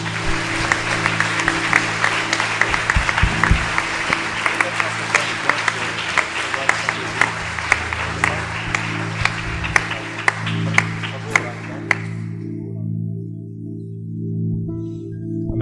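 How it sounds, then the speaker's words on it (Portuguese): A church congregation applauds at a worship service, a dense crowd clapping over a sustained organ-like musical drone, the clapping fading out near the end while the tone continues. "Vamos aplaudir ao Senhor."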